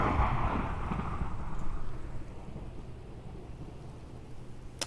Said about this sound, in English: Oh, it's thundering.